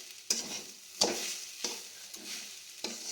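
Dry grated coconut mixed with sugar is stirred without water in a pan, a spatula scraping in sharp, evenly spaced strokes over a faint, quiet sizzle.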